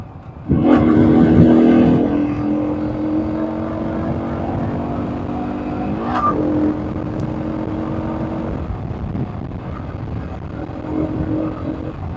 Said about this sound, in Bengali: খুব জোরে বাইক চালাবো না ভাবছি